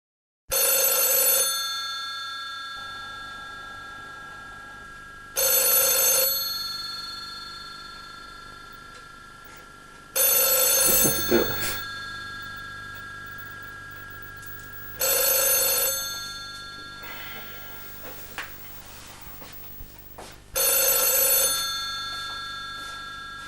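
An old-style telephone bell rings in five evenly spaced bursts about five seconds apart, loud and near, with quiet stretches between rings and no talk.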